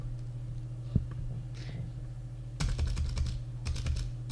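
Someone types on a computer keyboard in a quiet office, with a few isolated key taps first, then a rapid burst of clattering keystrokes and enter presses, close and fairly soft.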